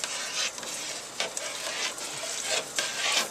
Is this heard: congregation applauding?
no